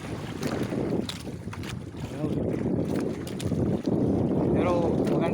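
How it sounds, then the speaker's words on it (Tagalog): Rough sea waves churn and slap around a small fishing boat about 11 miles offshore from Mandu Island, with steady wind buffeting the microphone and a dense, continuous roar of water throughout. "malaki-laki na yung alon"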